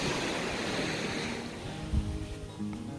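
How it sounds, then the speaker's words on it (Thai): Sea waves wash onto the beach at Khlong Nin on Koh Lanta, a steady, moderately faint rush of surf with a soft thump partway through. "ทะเลงาม"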